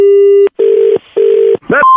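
A telephone tone sounds loud and close, a long steady beep followed by two shorter beeps with short gaps between them, then a quick warbling burst and the start of another tone.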